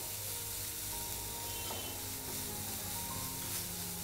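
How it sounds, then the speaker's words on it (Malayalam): A sugar mixture sizzles in a pan while being stirred continuously, giving a soft, steady hiss with faint scraping, close by and quiet. "കൈ എടുക്കാതെ ഇളക്കിക്കൊണ്ടിരിക്കണം."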